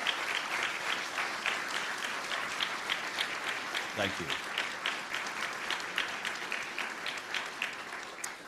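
Audience at a press club journalism awards ceremony gives a sustained round of applause, even and continuous clapping throughout, with a brief spoken thanks partway through.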